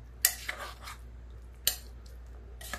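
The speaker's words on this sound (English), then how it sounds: "I'm gonna stir a little bit" A spoon stirs chicken dressing in a slow cooker, making a few sharp metallic clinks and scrapes against the pot, spaced out over a quiet background with no talk.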